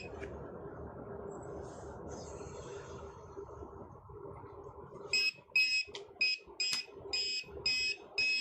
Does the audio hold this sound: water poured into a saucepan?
no